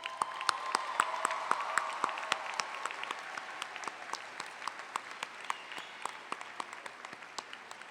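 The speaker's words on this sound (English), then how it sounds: "let's give those people a round of applause." Audience applause at a college commencement ceremony, a sustained wash of clapping from a large crowd, moderately distant and even, tapering slightly toward the end.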